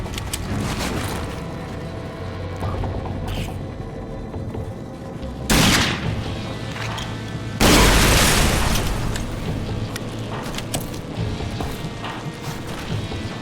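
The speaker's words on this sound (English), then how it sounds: "Oh, grenade." Grenade blasts in the shooter game Rage: two loud, close explosions, a short one followed seconds later by a bigger, longer boom, against a steady low background hum.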